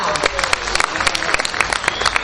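Audience at a Ukrainian Rescuer's Day ceremony clapping, a dense steady patter of many hands that fills the short stretch evenly at moderate loudness.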